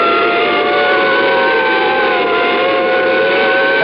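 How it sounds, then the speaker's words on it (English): An ambulance siren blares loud and close in a radio drama sound effect, a steady wailing tone held throughout with engine noise beneath. "He followed us with his siren blaring."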